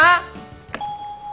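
A game show bell rings out with a bright electronic ding, followed by a shorter tone and a sustained hum, under a voice at the start.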